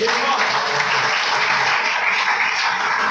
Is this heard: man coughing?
no